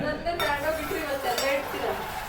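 Pots, cutlery and glassware clink and clatter close by during dishwashing, several light metallic chinks in quick succession while people talk over them.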